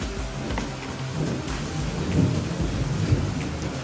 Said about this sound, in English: Why has this awful storm come down on us?